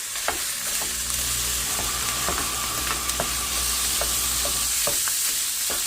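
Food sizzles loudly in a home kitchen pan, a dense steady crackle with scattered pops and the occasional scrape of stirring, close and continuous without talk.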